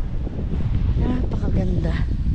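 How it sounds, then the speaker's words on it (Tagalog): A strong, cold gust rumbles low and steady against the microphone on a Canadian hillside, while a voice speaks briefly over the windy roar. "Mahangin po ngayong araw na to, malamig"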